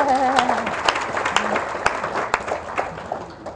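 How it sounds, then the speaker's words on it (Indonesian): Applause from a talk-show audience at a women's leadership event, steady clapping filling the room for a few seconds, fairly loud and near, with a faint voice briefly audible at the start. "Nah, tepuk tangan dulu dong"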